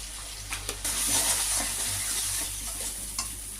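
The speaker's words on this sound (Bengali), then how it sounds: "মশলাটাকে কষাচ্ছি মশলা কষানো হয়ে গেছে তেল ছেড়ে দিয়েছে" Spice paste frying in oil in a pan, a close, steady sizzle under light stirring and scraping, growing louder after the first second and then holding level.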